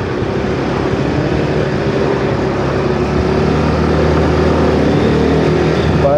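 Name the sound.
Yamaha D'elight 125 scooter accelerating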